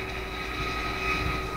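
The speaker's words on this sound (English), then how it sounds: "Then the helicopter takes off." A helicopter takes off after herding horses into a pen: a steady, close engine drone with a constant whine, holding even for the whole stretch without talk.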